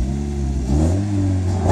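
A Plymouth Neon revs hard in a fast takeoff, its engine note climbing steeply in pitch over under two seconds, loud and close with no talking.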